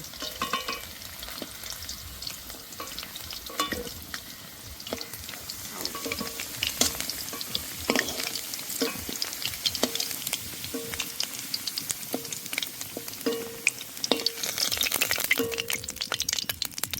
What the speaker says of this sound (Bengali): আলুগুলো ঠিক এরকম করেই ভেজে নিতে হবে, এরকম লাল লাল করে ভেজে নিতে হবে।